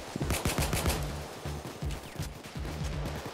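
Rapid automatic gunfire from the shooter video game Payday 2, with bursts of close, sharp shots repeating through the stretch.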